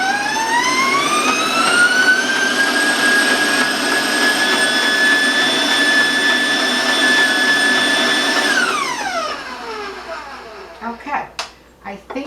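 Electric mixer whipping chocolate buttercream frosting at high speed, a loud steady motor whine that holds for about eight seconds, then winds down as it is switched off, followed by a few clanks and bumps of the whisk.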